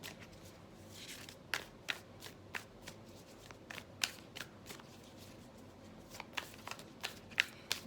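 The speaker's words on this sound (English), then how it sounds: "So I'm going to pull from the Starseed deck another strength and challenge card, one for each." Cards from a Starseed oracle deck are shuffled and drawn close by, producing a rapid run of crisp riffling flicks and soft slaps that repeat steadily throughout, with no talking.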